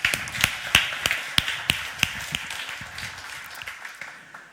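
Scattered audience clapping at a food startup competition finalist presentation, with sharp distinct claps from a few hands close by, thinning out and fading over a few seconds.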